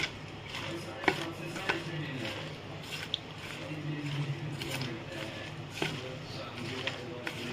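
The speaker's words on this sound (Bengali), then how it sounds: "এটাকে আমি ভালো করে আগে হাত দিয়ে সবটা মিলিয়ে নেব।" Grated cabbage kofta mixture is worked together with salt by hand, giving soft, damp squishing and scattered clicks of handling at close range. The sounds are fairly quiet and intermittent over a light background hiss.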